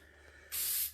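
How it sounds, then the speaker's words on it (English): An aerosol can of spray adhesive fires a single burst onto a stencil for painting vinyl and ceramic tile, a loud close hiss starting midway and cutting off at the end. "2 to 3 applications with one spray of your spray adhesive"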